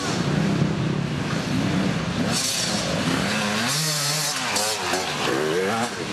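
Dirt bikes ripping up a hillside track at a fast motocross race, engines buzzing and revving with wavering pitch as riders pass, heard through heavy wind buffeting on the microphone.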